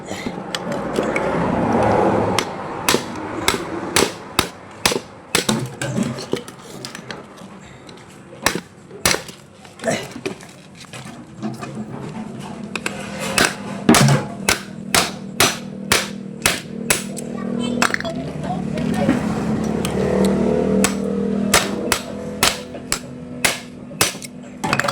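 Repeated sharp hammer strikes while repairing a spin dryer, irregularly spaced in bursts, loud and close, over a low background hum.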